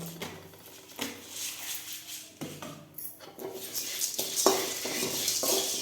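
Dry peppercorns and chana dal are roasted without oil and stirred in a pan, giving irregular scraping and clinking hits from a spoon against metal. The stirring stays fairly steady and close, with a faint rattle of grains and no talking.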